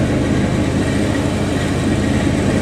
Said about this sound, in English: Sorry for the noise, my son's lawn mowing as well.